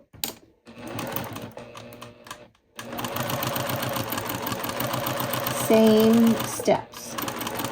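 A sewing machine stitches curved quilt pieces for a Floral Felicity four-petal block, running in a steady fast rhythm after a short pause, with a brief higher whine near the end and a person talking over it.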